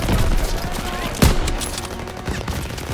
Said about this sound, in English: Suppressive fire! Keep firing!